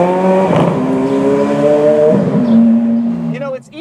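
A Ferrari Challenge race car drives on city streets, its loud, close engine rising in pitch through repeated gear changes with harsh upshifts, then falling away at the end.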